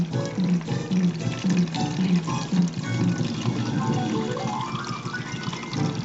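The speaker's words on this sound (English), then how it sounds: "I like to fill up my water bottles." Water running from a kitchen tap into a water bottle, with a gurgling pour that rises in pitch as the bottle fills, close and fairly loud over a steady background hum.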